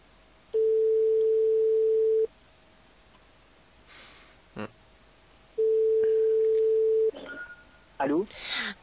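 Telephone ringback tone while a call is placed, heard as two long steady beeps separated by a quiet gap with faint background noise, then a brief burst of sound and a voice starting at the end.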